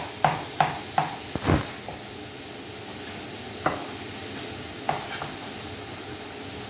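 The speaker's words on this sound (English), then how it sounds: "And you can just smell that beef frying away." Steady sizzling of beef frying in a hot pan for a beef and Guinness pie, with a few sharp scrapes and taps of a utensil stirring near the start and later.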